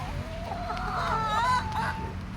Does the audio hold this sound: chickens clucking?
yes